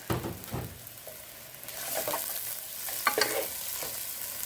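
Onions sizzle and crackle steadily in a hot frying pan for a Bangladeshi chicken curry, with a few stirring scrapes and clinks near the start, close and fairly quiet.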